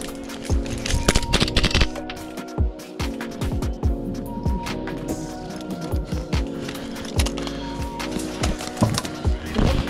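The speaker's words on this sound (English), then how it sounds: "Careful, careful, they're shooting at us." Airsoft guns fire in rapid bursts and single cracks during an outdoor plantation team deathmatch, with pellets snapping and thwacking against wooden cover close by, loud and continuous throughout.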